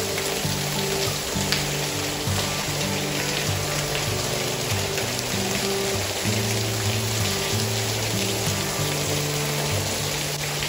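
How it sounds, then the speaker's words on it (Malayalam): Artificial rain sprays from a pipe over a home courtyard, a steady dense hiss of falling water that runs unbroken and fairly loud, with a low pump-like hum beneath it. "ഈ പൈപ്പ് ഓൺ ചെയ്യുമ്പോഴാണ് ഈ മഴ പെയ്യുന്നത് അതായത് ഇതൊരു ആർട്ടിഫിഷ്യൽ റെയിനാണ്"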